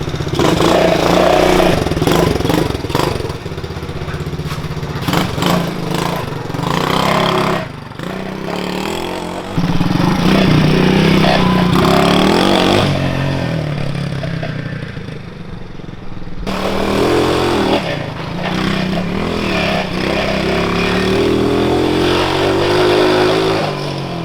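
A small 110cc engine on a Coleman mini bike revs up and down repeatedly, buzzing and whining with rising and falling pitch, loud and nearby, with brief drops between bursts.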